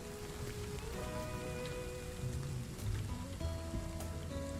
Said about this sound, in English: Oh, is it raining? It's raining. That's what's so loud.